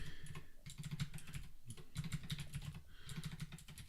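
Rapid bursts of typing on a computer keyboard, coming in three quick clusters of close, crisp key clicks with short pauses between them, no voices.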